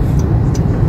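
Steady low engine hum and road rumble heard from inside a moving car, continuous and fairly loud throughout, with faint higher hiss and no talking.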